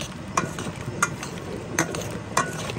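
Beef sizzles in a pot for Korean-style braised beef with quail eggs while a utensil scrapes and stirs it, giving four light clinks over a steady, close frying crackle.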